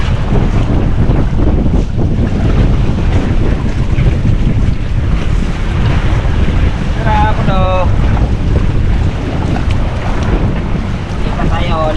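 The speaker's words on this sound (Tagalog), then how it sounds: "Lakas talaga ang bagyo." Strong storm wind roars steadily across the microphone aboard a boat at sea during a typhoon, with waves and water churning beneath, and a faint voice briefly audible under the gusts.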